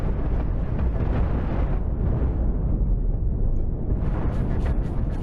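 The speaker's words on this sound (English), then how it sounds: "I'm savaging their sides and rear sections with deluges of high explosives" High-explosive missiles blasting enemy ship hulls in the space combat game Cosmoteer, a continuous rumbling roar of overlapping explosions, loud and steady throughout with a deep low-end boom, no voices.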